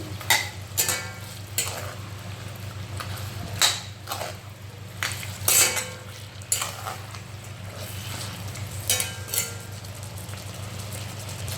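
Mutton curry with ginger garlic paste being stirred in a pan, a steady sizzle broken by a dozen or so sharp scrapes of the spoon against the metal at an uneven pace.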